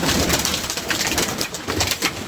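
Pigeons kept by a fancier on a dark, stormy day coo steadily and close by, with soft, repeated throaty calls and wing rustle filling the whole moment.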